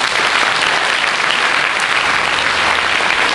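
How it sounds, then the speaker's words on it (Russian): Concert audience applauding a student conductor's debut at a wind and percussion department concert, a loud, dense, continuous round of clapping filling the hall with no voices on top. "Ваши аплодисменты."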